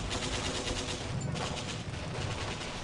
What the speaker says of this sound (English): Allied bombardment.